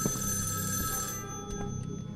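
An old telephone rings inside the horror video game Evil Inside, a loud repeating bell trill that fills the space and then breaks into shorter bursts, with no one talking.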